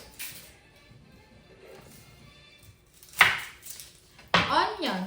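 A knife chops onion on a kitchen board in a few sharp, separate strikes, close and fairly quiet against a soft background.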